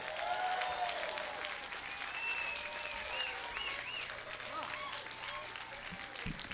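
Audience applause at an awards show premiere event, a steady dense wash of clapping filling the whole stretch, fairly loud and continuous, with some voices and cheers mixed underneath.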